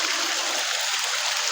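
A hidden stream in an old quarry runs with a constant, hissing rush of flowing water, close and steady, with no one talking.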